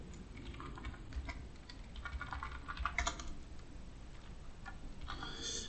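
Steady typing on a computer keyboard, quick clustered keystrokes with short pauses, close and fairly quiet, while writing driver code for a WitMotion WTGAHRS1 IMU in C; no talking.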